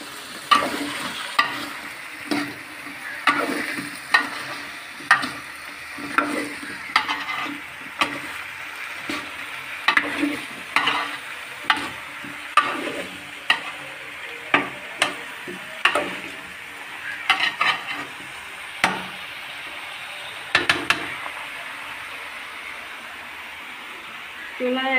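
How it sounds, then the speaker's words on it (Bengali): Vegetables for a prawn curry fry in a pan while a utensil stirs them in steady, rhythmic scrapes and clanks about once a second over a low sizzle, with a person talking at times. "একটু নেড়ে দিব।"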